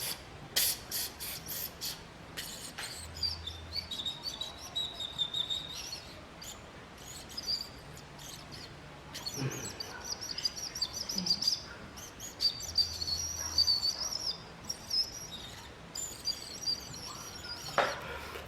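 A bone flute, a duct-less beveled aerophone with the bone wall as its edge, played in thin, high, airy whistling tones, bird-like and intermittent, over a steady breathy hiss.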